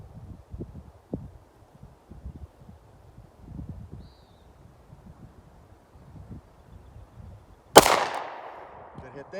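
A single rifle shot cracks loudly at a long-range target in open, windy outdoor air, with a sharp report and a short decaying echo, preceded by quiet talking and wind.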